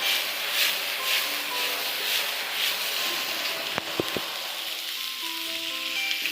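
Capsicum, onion and other vegetables stir-fry over a high flame with salt and crushed peppercorn, a loud continuous sizzle with a couple of brief clinks of a utensil against the pan near the end.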